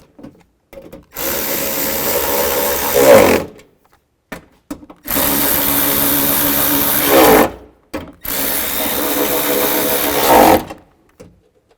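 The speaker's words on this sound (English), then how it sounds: "And we'll tighten all these down." A power tool tightens the bolts on a replacement window regulator assembly in a 2005-15 Nissan Xterra door, running in three loud whirring bursts of about two to three seconds each, with short quiet gaps and faint clicks between them.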